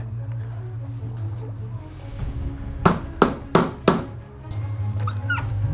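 Hammer blows on a VW Golf car body during welding repair work: four loud, sharp strikes in quick succession mid-clip over a steady low hum, with faint talk at the edges.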